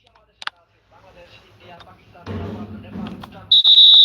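A referee's whistle shrills in an eFootball video game match, a loud sustained blast near the end after game sounds and a commentator's voice.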